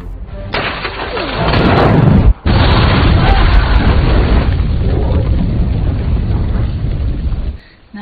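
A grenade goes off in a film battle scene: a loud, close blast swells into a thick rumbling roar, breaks off sharply for an instant, then rolls on for several seconds before cutting out.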